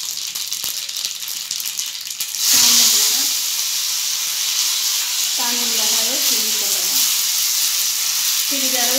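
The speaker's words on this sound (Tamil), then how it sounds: "இரண்டு ஸ்பூன் எண்ணெய் விட்டு கொள்ளலாம். காய்ந்தவுடன் கடுகு ஜீரகத்தை சேர்த்துக்கொண்டு" Mustard seeds and cumin drop into hot oil for a chayote sambar and burst into a loud, steady sizzle about a third of the way in. The crackle carries on to the end, with brief voice-like tones rising over it.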